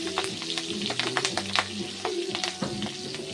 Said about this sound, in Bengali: এই যে কালো জিরে ফোড়ন দিয়ে দেবো, একটু ফোড়ন দিয়ে দিলাম